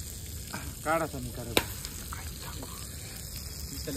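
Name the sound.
chicken lollipop sizzling on hot charcoal embers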